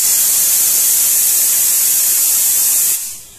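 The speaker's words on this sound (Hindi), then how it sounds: "अपने कुकर में 4 भीसी ला चुका है।" A pressure cooker on a gas stove cooking chana dal vents steam in a loud, sharp, continuous hiss that cuts off and fades in the last half second.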